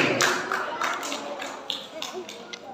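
Applause from an audience at a Ramadan quiz competition final, a steady wash of clapping under a spoken voice, fairly distant and moderate in level.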